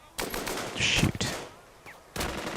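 Rapid bursts of machine-gun and rifle fire from the wartime strategy game Burden of Command on a Sicily beach, loud and close, with several crackling volleys separated by brief lulls and no speech.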